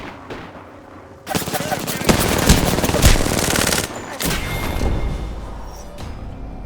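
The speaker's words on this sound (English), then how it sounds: "Getting shot at." Sustained automatic gunfire in the Apex Legends video game, loud and dense rapid bursts with a brief pause before another stretch of shooting, heavy and close throughout.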